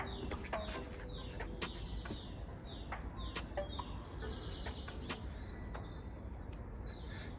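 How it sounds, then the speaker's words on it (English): Birds chirp and sing outdoors, several calls overlapping at a steady moderate distance, with a soft hum of background noise and no talking. "I just wanted to give you this listen to the birds."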